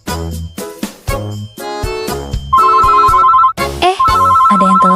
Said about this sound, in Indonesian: Ada yang telepon nih. Siapa ya?